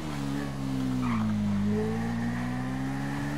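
Engine of a motorcycle in the game GTA roleplay, a steady droning motor note that dips briefly and rises again, continuous and fairly loud throughout with a faint squeal, no talk over it.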